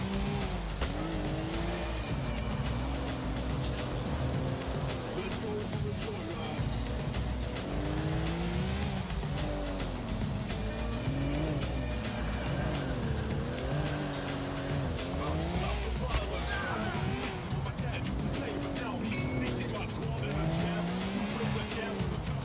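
A mid-engine sports car in Grand Theft Auto IV drives continuously with the engine droning and repeated tire squeals as it slides through corners, under game music and occasional talk.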